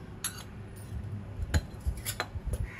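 A spoon or whisk clinks and scrapes against a bowl while yogurt is beaten with sugar and salt, giving several sharp metallic taps and a soft, uneven stirring rhythm, close up and with no voices.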